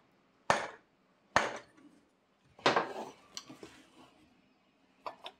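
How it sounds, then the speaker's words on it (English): A hammer strikes the aluminium housing of a Rotax Jmax kart gearbox during a teardown: three sharp, ringing metallic blows spaced about a second apart, then several lighter knocks and one final tap. "We're not hitting the shaft, I'm hitting the aluminium."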